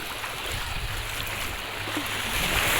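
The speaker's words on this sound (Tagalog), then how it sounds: "Ayan oh. Tubig dagat." A steady rush of sea water washing and churning, with a low rumbling hum underneath, growing slightly louder toward the end.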